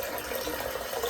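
A small splash of water worked into coconut and lime scented shaving lather during a head shave, giving a steady soft wet churning and squelching that stays close and even for about a second, with no talking.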